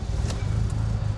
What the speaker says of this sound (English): I'm gonna fire it up and take it for a spin.